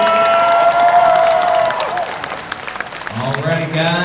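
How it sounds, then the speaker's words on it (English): A crowd at the VisionCon 2019 cosplay contest claps and cheers for the novice category, steady and loud, with a voice talking over the applause. "Give us another round of applause for our novice category."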